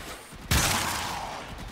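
A single loud burst from the Incarnon Dual Toxocyst pistols in the Warframe video game, a sudden blast that fades slowly over about a second and a half after a quiet start.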